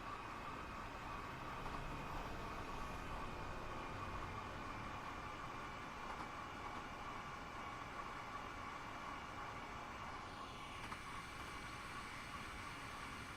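A steady, low train rumble with wheel and engine noise from Train Simulator Classic, a continuous quiet drone with no voices over it.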